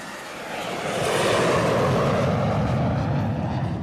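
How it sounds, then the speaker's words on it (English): Steady engine roar and broadband cabin rumble from an American Airlines A319 jet waiting before takeoff, swelling slightly louder after the first second and then holding constant and close, with no talk. "Getting closer to takeoff."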